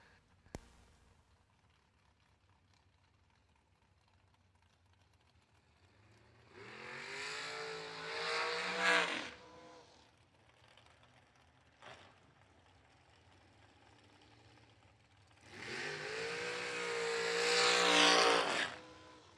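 Two dragsters run at a drag strip, each pass a loud engine roar building and fading over a few seconds, with a quieter idle gap between them and no talking.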